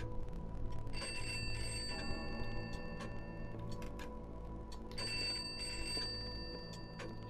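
A telephone rings in the video game Pineview Drive, a repeating electronic trill in two bursts separated by a short pause, steady and fairly quiet against a low ambient hum.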